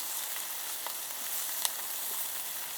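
Brussels sprouts fry in a pan with a steady, bright sizzle up close, dotted with occasional crackles and pops and one sharper tap partway through.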